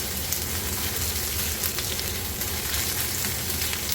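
Steady sizzling of onion frying in a hot pan, a continuous crackling hiss with no voices.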